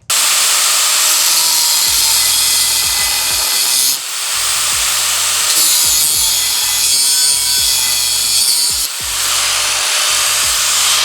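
Loud power-tool cutting of a small corner notch on an electric drift trike frame during a 48-volt upgrade build, a harsh continuous grinding-sawing roar with brief dips, close and alone.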